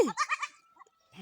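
Goat on an African village farm giving a close, wavering bleat, a second brief call following after a short pause.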